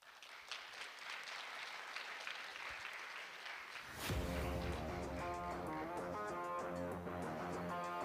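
Audience applause at an award ceremony, a dense steady clatter of many hands that keeps going as music swells in beneath it halfway through.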